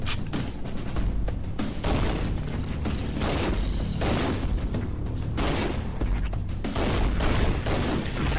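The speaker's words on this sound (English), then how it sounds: "killing him with that rocket there" Dense, loud volleys of gunfire and booming blasts in Halo on a Legendary-difficulty level, a rocket launcher's shots and explosions blending with continuous battle noise and mechanical clatter throughout.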